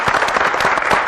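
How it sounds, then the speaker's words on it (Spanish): A studio audience at a 1996 Spanish TVE television special claps in a short, dense burst of applause with no voices over it. "me gustaría pedir al público un gran aplauso cariñoso"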